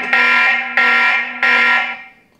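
The speaker of a TP-Link Tapo C310 outdoor Wi-Fi security camera sounds its alarm siren in three loud, sustained electronic blasts, each cutting off abruptly before the next, with the last one fading out.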